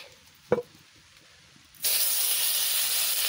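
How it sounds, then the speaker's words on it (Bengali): Fish dropped into hot oil: after a quiet moment and a single knock, a sudden loud, sustained hissing sizzle bursts up and continues steadily, close by, with no voices. "মাছ ভাজা বসাই দিচ্ছি।"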